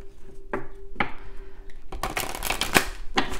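Someone shuffles a deck of oracle cards by hand, with a run of crisp riffling flutters and soft slaps close by, repeated in short bursts.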